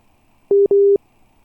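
A telephone busy tone follows a call that has cut off. It plays as two loud, clean electronic beeps in quick succession against near silence.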